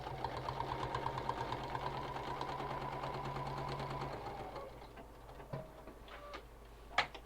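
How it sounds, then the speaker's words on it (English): A sewing machine stitches a zip-around wallet, running at a slow, steady pace with a rapid even ticking for about four seconds, then stopping, followed by a few faint clicks and a sharper knock near the end. "I'm being so slow because I really want to get a nice, good stitch on that."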